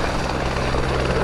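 A Eurocopter Écureuil helicopter runs its engine at an airshow in Cholet, a loud, steady turbine-and-rotor roar that fills the clip without a break.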